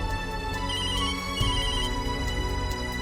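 A telephone ringtone plays loudly and steadily, a repeating electronic melody with regular pulses and no voices.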